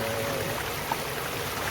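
A small tiered waterfall on a farm gives a steady, soft rush of falling water that stays quiet and even throughout, with no voices.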